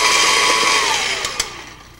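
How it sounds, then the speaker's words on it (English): An electric mixer beats chocolate cake batter at medium to high speed, a loud steady whirring drone that fades slightly toward the end with a couple of brief knocks against the bowl. "turn the mixer up to medium speed or high speed if it's a handheld beater"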